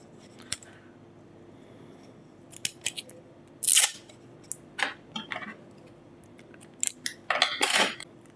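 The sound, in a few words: tape being applied to laptop motherboard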